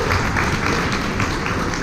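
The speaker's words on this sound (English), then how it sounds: "let's give a round of applause for people who've been here for 7 of them" An audience claps in steady, dense applause, with the sound filling the room evenly for a couple of seconds.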